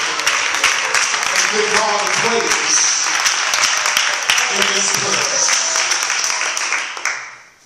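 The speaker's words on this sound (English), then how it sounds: "come on and clap your hands" Church congregation clapping hands together in sustained, dense applause that fills the room, with a voice briefly heard at the start, then fading out near the end.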